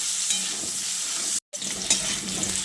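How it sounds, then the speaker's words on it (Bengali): Potato pieces frying in oil in a pan for a potato and pointed gourd curry, a continuous close sizzle with a brief break in the middle. "এবার আমি আলুগুলোকেও ওই পটলের মতো করে ভেজে নেব"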